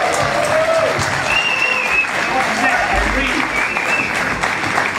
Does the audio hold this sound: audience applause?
yes